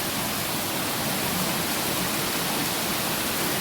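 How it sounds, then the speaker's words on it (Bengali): Heavy downpour of rain, a dense, steady broadband hiss that stays loud and unbroken throughout, with no voices. "মুষলধারে বৃষ্টি হচ্ছে।"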